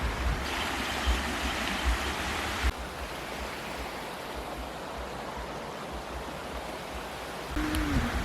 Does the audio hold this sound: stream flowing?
yes